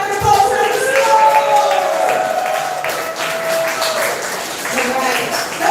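Audience applause and cheers at a poetry slam bout, a steady wash of clapping from a crowd that lasts several seconds and fades slightly before rising again.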